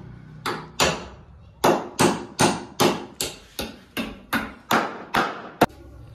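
A hammer drives a sack onto a homemade dog bed for a Rottweiler, about a dozen loud, sharp blows landing close by in a fairly steady rhythm, with no voices.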